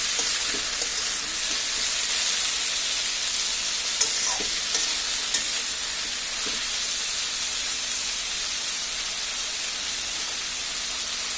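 Sliced bitter gourd fries on a high flame, giving a steady, close hiss of sizzling oil with a few light stirring clicks scattered through, and no voices.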